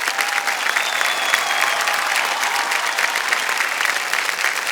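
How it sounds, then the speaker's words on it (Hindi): Studio audience applause at a KBC India quiz show, a steady, dense clapping that continues at an even level for several seconds without any speech. "जयकारा इनके नाम, तालियां बज जाएं।"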